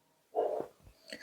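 A single short bark from a street dog outside, moderately loud and fairly close, followed by a fainter second yelp.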